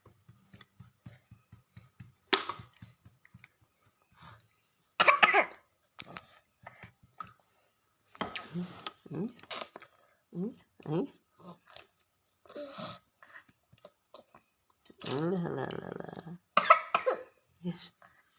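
A child coughs in short, scattered bursts close by, spread among quiet pauses, with an adult talking softly in between.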